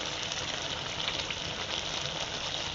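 Bay leaves and dried red chilies sizzle in hot oil for a village-style Bengali vegetarian dish, a steady, dense crackling fry that holds close and even throughout with no voices.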